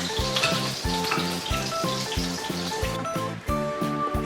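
Zucchini frying in a pan while pasta cooks for a summer zucchini pasta dish, with a steady close sizzle and a repeating low rhythmic clatter underneath, no talking.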